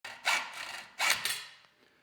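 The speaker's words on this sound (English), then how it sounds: "So what I do when I get an unslotted one is grab my hacksaw" A hacksaw cuts a slot into a mountain bike bearing race, making two close rasping strokes, each a short burst that fades before the next.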